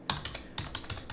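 Quick keystrokes on a computer keyboard while typing a web address, about six close, soft clicks in an uneven rhythm over a second.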